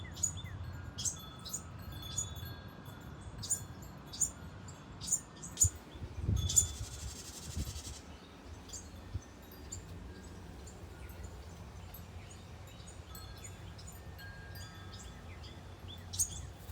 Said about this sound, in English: That's the little chicks.